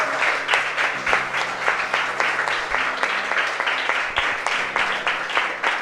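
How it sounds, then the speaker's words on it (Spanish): A church congregation applauds in rhythmic unison during a Spanish-language service, loud, evenly timed claps repeating about three times a second over a low sustained organ-like tone, with no speech. "Dale un aplauso al Señor"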